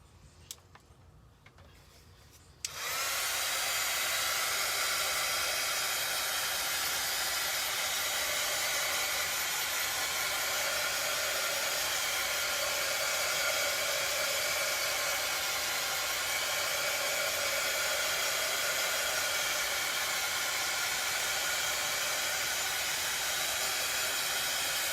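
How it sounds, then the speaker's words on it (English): A heat tool blows steadily while drying craft pieces for buffalo plaid XoXo Valentine decor. It starts after a brief quiet stretch and holds as a loud, continuous airy whoosh with no talking. "I'm gonna grab my heat tool and I'm gonna start getting both of these"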